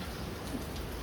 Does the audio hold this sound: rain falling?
yes